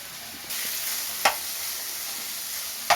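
Ghee sizzles steadily in a pan as sorekayi (bottle gourd) halwa is stirred and roasted, a continuous frying hiss with two sharp scraping clicks of the spoon against the pan.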